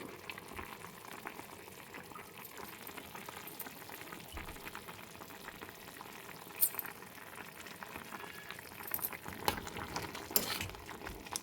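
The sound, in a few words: raw banana cooking with oil and turmeric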